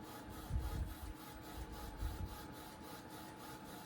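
A Sawgrass 500 sublimation printer working quietly, with a faint, steady mechanical whir and soft rhythmic swishing as the print head moves back and forth.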